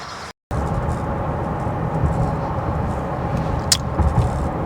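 Car driving along a rural road through the town of Jamesport, a steady close engine and tire rumble with road noise, a brief cut near the start and a short bright transient later.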